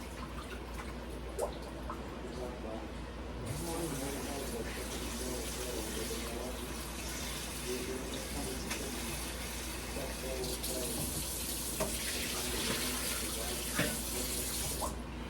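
Tap water runs steadily into a kitchen sink while leeks are rinsed, a continuous splashing rush that grows louder after a few seconds, with faint handling noises and a voice heard softly underneath.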